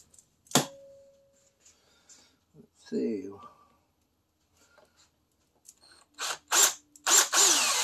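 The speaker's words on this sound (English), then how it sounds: "get out the drill, my cutter bits, and we'll get to it." Handheld power drill fitted with a cutter bit in a home garage, heard in short separate bursts: a sharp start, a brief whir, then several loud pulses near the end, with a voice speaking in between.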